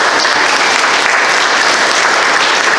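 A worship-service congregation claps in loud, dense, continuous applause, with no voices standing out over the steady wash of hands.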